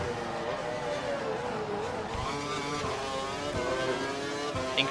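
An F1 car engine from F1 2012 at the Bahrain circuit revs high and whines continuously, with rising and falling pitch through gear changes, loud and close, with no talking.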